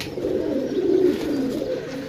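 Pigeons coo nearby on a rooftop, a soft, low, rolling call that swells and fades over a couple of seconds.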